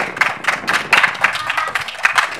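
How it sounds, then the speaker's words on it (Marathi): A group claps hands together in quick, even rhythm during a swimming lesson, a run of crisp bursts close by. "सर्वांनी एकमेकाचं स्वतःच्या टाळ्या वाजून स्वागत करायचे"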